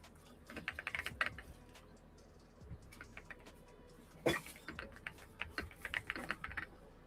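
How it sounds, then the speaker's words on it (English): Loud computer keyboard typing in bursts of rapid clicking, with short pauses between runs and one sharper clack near the middle, close and heard alone. "I know my keyboard's loud now"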